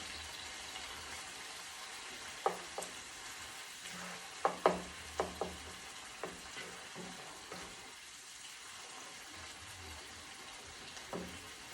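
Ground turkey browns in a pan for tacos under a low, constant sizzle, while a spatula knocks and scrapes now and then in scattered sharp clicks, close by and without voices.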